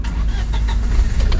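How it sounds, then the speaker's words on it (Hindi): A car's diesel engine turns over and runs in freezing cold of about -20°C at night, producing a loud, close, steady rumbling drone. "मुझे ना गाड़ी हर थोड़ी थोड़ी देर में स्टार्ट करनी पड़ रही है, सो दैट डीजल इसका जमे"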